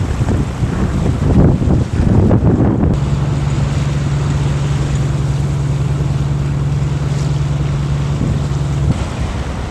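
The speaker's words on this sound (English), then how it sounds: "When you head out in the lake first, the wind behind you, it's all grand and calm." Wind buffets the microphone aboard a small boat heading out on Lough Erne, rough gusting rumble at first, then a steady low motor drone holds beneath continuous wind noise.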